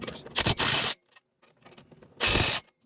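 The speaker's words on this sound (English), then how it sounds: "then I can engage my impact wrench now and get it in there faster" An impact wrench drives lug nuts onto the front hub of a 2017 Ford F250 during a bearing hub replacement, firing in two loud, harsh bursts with quieter clinks of metal in the gap between them.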